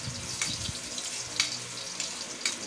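Ginger sizzles in a hot pan with a continuous broadband hiss, punctuated by a few brief crackles and clinks at roughly one-second intervals, close and moderately loud.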